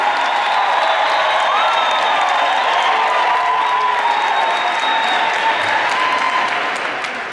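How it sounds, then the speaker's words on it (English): Loud, sustained audience applause with whistles and shouts from a crowd at a motivational speaking event, a dense wash of clapping and cheering that holds steady throughout and fades slightly at the end. "give me a big round of applause, loud noise, whistle, shout"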